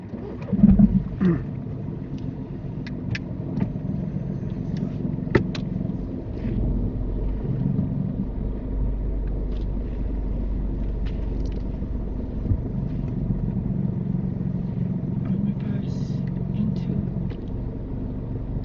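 A car's engine hums steadily at low speed while reversing into a bay during a UK mock driving test, a constant close rumble with brief speech at the start and faint clicks over the drone.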